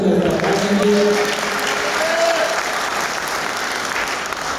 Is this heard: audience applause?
yes